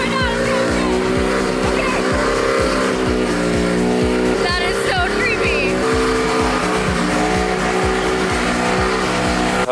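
A rotary-engined Nissan S15 drift car with a dual-clutch gearbox idles loudly and creeps forward on its own, its choppy, pulsing rotary idle steady and close throughout, with a person talking over it.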